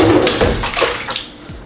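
Water balloon booby trap taped under a drawer bursting as the drawer opens, spilling water in a loud close splash followed by several short sloshing and dripping bursts, no speech.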